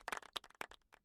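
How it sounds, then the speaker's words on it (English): A brief canned applause sound effect played during a casual talk show: a short burst of scattered claps, moderately loud and alone, lasting about a second. "he's finding the sound effect so he can literally applaud this comment"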